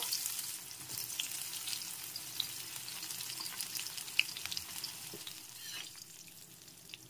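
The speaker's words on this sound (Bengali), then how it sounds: "করলাটা একটু ভালো করে ভেজে নেব।" Pieces of bitter gourd fry in hot oil, a steady close sizzle with soft crackles and a few brief pops and clinks as they are stirred, no one talking.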